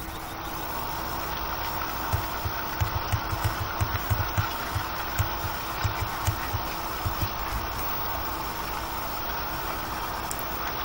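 A mid-pitched tractor engine in Farming Simulator 2015 idles and chugs steadily with a faint rhythmic rattle, droning evenly throughout.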